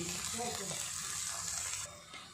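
Masala for country chicken curry sizzles steadily in a hot pan with occasional stirring, then the frying drops quieter near the end.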